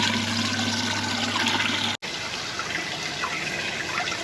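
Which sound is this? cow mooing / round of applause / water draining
water draining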